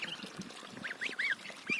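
Goslings and ducklings in a farmyard pen, with a mother duck, give several high chirping peeps close by, rising and falling over a soft background of rustling and small bumps.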